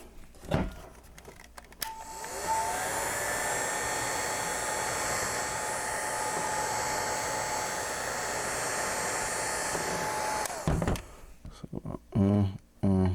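A heat gun blows hot air onto a vinyl device skin in a steady, loud whooshing roar that lasts about nine seconds, with handling noises before and after it and a faint whine over the airflow.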